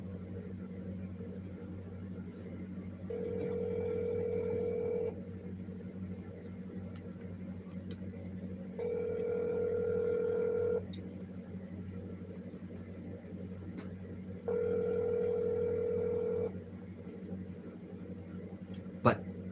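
A telephone call rings out as three long, steady ringback tones separated by pauses, sitting over a low constant hum with faint background noise.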